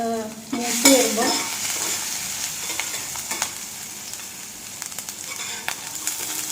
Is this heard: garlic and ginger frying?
yes